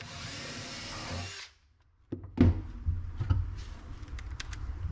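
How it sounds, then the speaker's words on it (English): A power drill bores a deeper pilot hole, running steadily for over a second, then stops; knocks and clatters follow as the tool is handled up close, during a shop cabinet build. "I needed the pilot hole a little deeper, so I'll follow up with a deeper drill bit"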